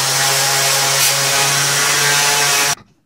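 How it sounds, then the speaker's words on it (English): An abrasive power-tool wheel grinds and cleans up cut metal for a Cushman decal cover, running as a steady loud whine with a constant hum for about three seconds, then stopping abruptly. "Now we're going to take and hit it with the wheel and clean it up a little bit"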